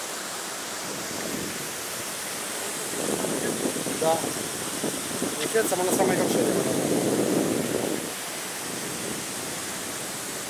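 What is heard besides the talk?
Laxapana waterfall roaring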